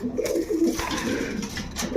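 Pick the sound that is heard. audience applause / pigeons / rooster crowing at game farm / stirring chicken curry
pigeons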